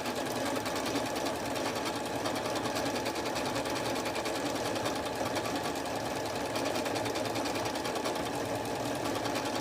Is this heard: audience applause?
no